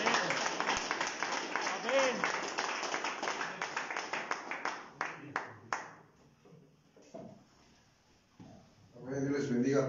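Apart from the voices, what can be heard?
congregation applause in church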